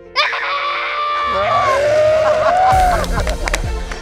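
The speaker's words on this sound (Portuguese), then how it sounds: "grito bem alto" A girl's loud, sustained scream rises and wavers for several seconds on a televised junior cooking competition, with a muffled voice and thumping underneath.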